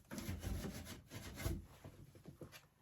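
Fine scuff pad rubbed back and forth along a wooden end table piece after sanding, giving soft, steady scratchy strokes close by, each a brief swell, with no voices.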